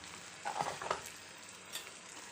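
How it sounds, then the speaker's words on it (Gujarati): Onion, tomato, salt and turmeric cooking in hot oil in a pan give a steady, fairly quiet sizzle, with a few brief clinks of stirring near the start and middle. "હવે આ બધું આપણે પાંચ મિનિટ માટે તેલમાં પાકવા દઈશું"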